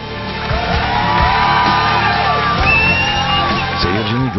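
Loud football crowd at a Fenerbahçe match, shouting, whooping and cheering continuously with voices rising in waves, dense and close throughout.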